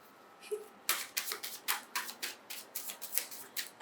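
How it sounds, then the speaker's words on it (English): Tarot cards are shuffled in a quick run of about a dozen crisp riffling bursts, close and fairly quiet, with no talking. "just do a little more shuffling in camera for you"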